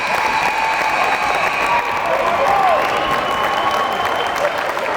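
A gym crowd at a high school boys' basketball playoff game keeps up steady, dense clapping and cheering for the full stretch, with a whistle-like squeal rising briefly in the middle.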